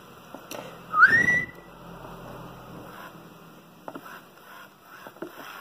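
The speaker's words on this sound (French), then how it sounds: "Pour me réveiller, il faut simplement siffler." A person gives a single short, rising whistle up close to wake a 2005 Furby Emoto-Tronic toy, followed by quiet with faint light taps.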